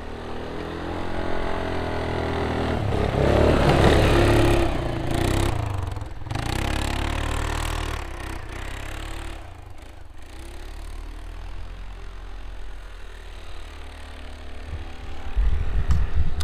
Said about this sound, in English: the ATV is fixed, seems to be running fine now